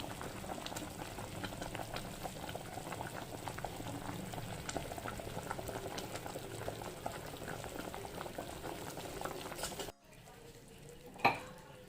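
Fish curry (chepala pulusu) boiling in a pot, with a continuous close bubbling and simmering that drops abruptly to a quieter hiss near the end, punctuated by one brief clink.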